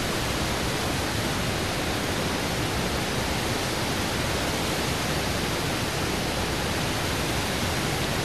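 Tamarin waterfall in the Mauritius jungle, heard from behind the falling water as a steady, dense roar that fills the whole stretch without a break, close and loud with no voices.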